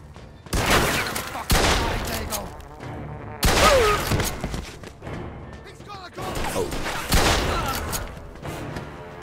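Gunfire in the video game Mafia 2: loud, repeated bursts of shots and thudding impacts arrive in several waves, mixed with other game sounds.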